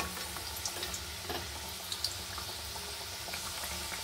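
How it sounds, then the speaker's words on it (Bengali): Chhana jilapi deep-frying in oil gives a soft, continuous crackle and sizzle with scattered small pops, heard quietly and close with no voices. "এরকম করে লাল লাল করে ভেজে নেব"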